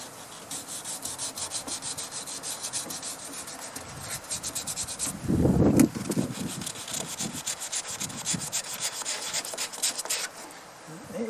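Paint on a 1934 Pacific Model 107 radio is sanded by hand in quick back-and-forth scratchy strokes, close and continuous, with one heavier, deeper rubbing stretch partway through.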